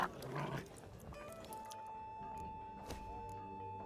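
A puppy barks in Thronebreaker: The Witcher Tales, a few short yaps near the start, followed by quieter game ambience with a sustained tone and one more brief burst.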